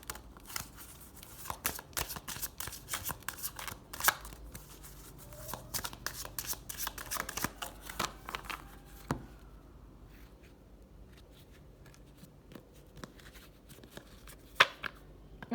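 Oracle cards shuffled by hand for a reading, giving a soft, continuous riffling and tapping with scattered sharper snaps, close and fairly quiet, thinning out toward the end with a couple of brief clicks.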